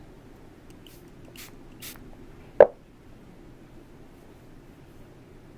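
A single short hiss of a spray bottle pumping once, close and clear, spraying homemade shimmering body oil, after two faint brief rustles in an otherwise quiet room.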